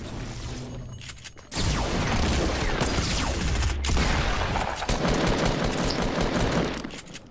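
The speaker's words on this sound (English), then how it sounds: "I just sniped him" Loud, dense burst of game gunfire fills the scene after a quieter opening, with cracking shots, shattering debris and mechanical clatter continuing to the end, including a sniper rifle shot in a shooter match, a mid-air snipe.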